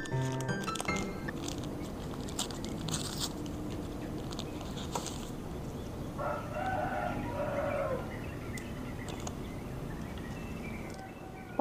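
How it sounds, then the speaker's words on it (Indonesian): A rooster crows once at moderate distance amid faint ambient background noise, with no talking, outside a hotel in Solo. "Suara ayamnya tuh kenceng banget kan, ayam"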